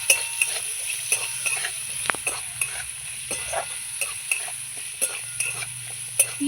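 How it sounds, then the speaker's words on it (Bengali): Onion and half-fried potatoes stirred together in a hot pan, spatula scrapes and clicks landing in a loose repeating rhythm over a continuous close sizzle. "দিয়ে আবার একটু নাড়াচাড়া করবো"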